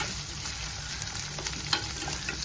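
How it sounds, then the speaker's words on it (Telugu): Onions, cumin, curry leaves and green chillies frying in hot oil for an egg tomato curry, a steady close sizzle with faint crackles and one brief louder pop, no voices over it. "మనం కట్ చేసి పెట్టుకున్న ఆనియన్స్ని యాడ్ చేసేద్దాం"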